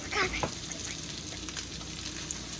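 Crawfish dropped into a pan with butter and olive oil, a loud initial splatter then a constant hissing sizzle that carries on evenly to the end.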